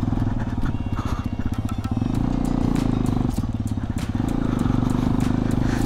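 An XPulse 210 motorcycle engine drones steadily while riding off-road toward Bolumalai Fort, with a continuous buzzing pulse, small rises and dips in revs, and a voice talking over it.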